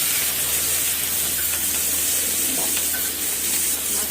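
Food frying in a hot pan at home, a steady loud sizzle and hiss with faint stirring scrapes running throughout, close and continuous with no talking.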